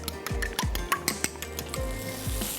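Egg yolk being mixed in a bowl while making pasta carbonara, a series of irregular clinks and scrapes of a utensil against the bowl, close and moderately loud, with no talking.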